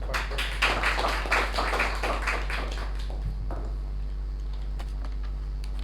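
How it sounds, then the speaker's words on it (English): Applause from a small Toastmasters meeting audience, a few hands clapping fairly close for about three seconds and then fading to scattered taps over a steady low hum. "Another round of applause, please."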